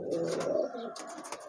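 Rooftop pigeons coo in a short, soft, close run of low throaty calls, alone with no talk.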